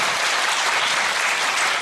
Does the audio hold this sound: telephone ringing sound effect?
no